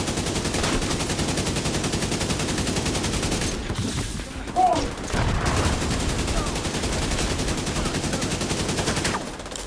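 Dense, rapid video game gunfire crackles almost continuously, with bursts of automatic fire and a brief lull in the middle before resuming.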